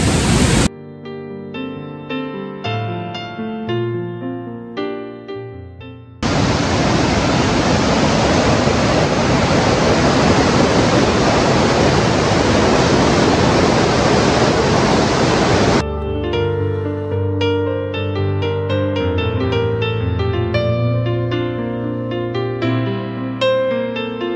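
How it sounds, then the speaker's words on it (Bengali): A rain-swollen, muddy river near Tabakoshi village in Mirik rushes loudly and steadily as a broad roar, with music playing before and after the water sound. "নদীতে চলে এলাম, চলো তোমাদের নদীটা একবার দেখাই।"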